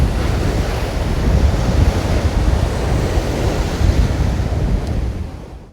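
Sea waves surge steadily against a sea wall along a coastal promenade in Aberdeen, a loud, continuous rushing roar of surf mixed with gusty wind buffeting the microphone, fading slightly at the end.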